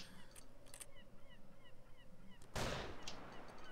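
Birds in the video game Poacher give a series of small repeated honking calls at a steady pace against quiet ambience, then a loud broad burst like a gunshot cuts in near the end.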